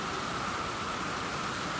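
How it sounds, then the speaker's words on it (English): Steady rain falls outside in a garden during a long wet spell, a constant hissing patter with no break, fairly soft and even throughout, with no voices. "it's raining for whole night and most of the day"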